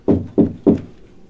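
Three sharp knocks, evenly spaced and close, sound in an abandoned house, followed by quiet.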